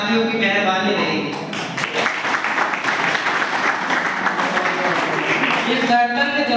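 An audience at a Republic Day stage event breaks into loud, dense applause that swells through the middle, with a voice or amplified tones audible at the start and end.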